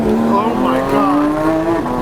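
A car driven hard on a race track, its engine loud and close with a steady high-revving drone that climbs in pitch before easing off.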